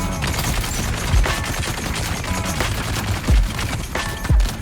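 Heavy shotgun blasts from a shooter video game with a shotgun trooper build, deep booming shots at irregular intervals under a dense, noisy battle soundscape.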